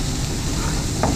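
An egg hits a pan of stir-fried vegetables and sizzles loudly, a dense frying hiss with faint stirring scrapes and a short splash near the end.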